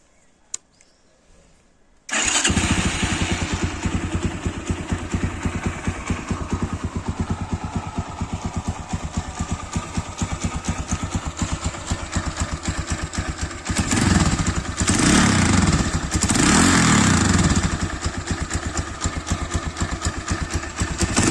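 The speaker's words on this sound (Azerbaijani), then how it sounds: "Motosikleti xotlayıb səsinə də baxaq." A Tufan Falcon Freedom 250cc motorcycle with a holed exhaust, cold engine, fires up after a short pause and settles into a loud, steady rattling idle, with a brief rise in revs near the end.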